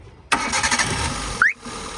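A 2008 Hyundai i10 Magna with a 1.1-litre 1086 cc petrol engine cranks and catches, then runs at a steady idle with a brief squeal, close by and fairly loud.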